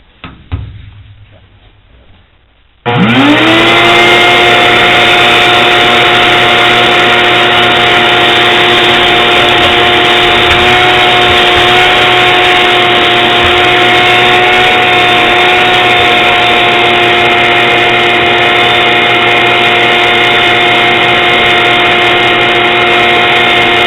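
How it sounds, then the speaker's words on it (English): A vacuum cleaner switches on after a few seconds of quiet and runs loud and steady with a constant whining hum. "Now I started up my vacuum"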